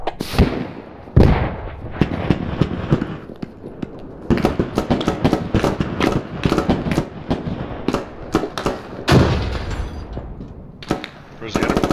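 Gunfire in the military shooter game Squad, with dense rapid bursts of shots cracking close by in clusters, brief pauses between volleys, and players talking over the shooting.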